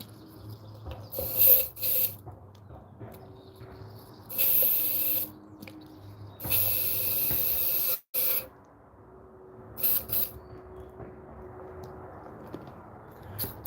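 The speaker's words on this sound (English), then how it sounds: "Just spray whatever we got out." A paint spray gun blasts short bursts of water to flush leftover orange paint from its cup while pouring soft plastic fishing lures, with several loud hissing sprays separated by quieter pauses.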